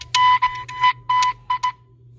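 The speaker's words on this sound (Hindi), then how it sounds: "अबे अलार्म बज गया।" An alarm clock rings loudly in a room, its electronic beeping coming in several bursts of uneven length before it stops.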